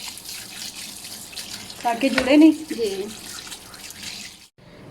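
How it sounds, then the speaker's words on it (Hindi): Cold tap water runs and splashes over strained macaroni in a colander, a steady stream that swells briefly in the middle before cutting off, with someone speaking over it. "अब इसके ऊपर ठंडा पानी डालेंगे"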